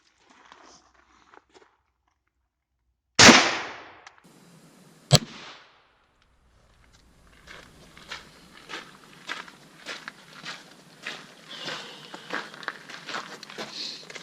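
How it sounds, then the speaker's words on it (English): Two sharp, loud shots ring out from an M1 carbine rifle fired at a British MK6 ballistic nylon army helmet, spaced about two seconds apart with a short echo, then quieter footsteps and shuffling follow. "So now I think we'll start with the rifle rounds. M1 carbine."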